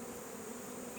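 Honeybees buzzing around a hive while being fed pollen cakes: a steady, dense drone of many wings, close and even throughout with no pauses.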